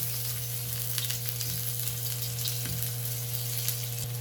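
Onions sauté in hot oil in a pan for ginisang repolyo, a steady, close sizzle and crackle with faint stirring taps over a constant low hum, no voices.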